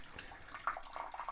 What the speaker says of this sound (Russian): воду эту вот таким вот макаром сливать